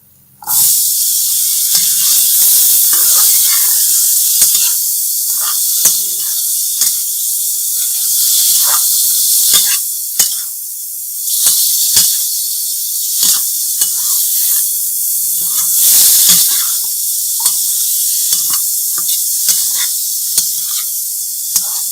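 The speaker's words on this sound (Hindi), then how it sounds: "थोड़ा सा भून के हमारी ये जो चना है ये" Chickpeas (chana) roast in a pan with chaat masala, salt and dried mango spice, giving a steady, loud sizzling hiss throughout with occasional scraping stir clicks, and no talking.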